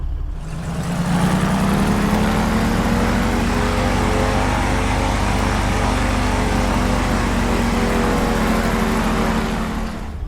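Steady, loud twin propeller-engine drone from a Carenado Skymaster in Microsoft Flight Simulator during mountain flying, a constant humming roar that holds through the whole stretch with no talking.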